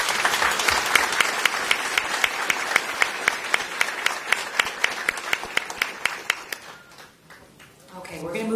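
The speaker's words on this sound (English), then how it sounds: "Let's give them all a round of applause." An audience at a DeKalb County public safety awards ceremony applauds steadily for several seconds, the clapping thinning and fading toward the end.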